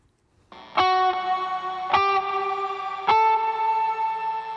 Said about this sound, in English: So some stabs there for you. You can hear the shimmer tail.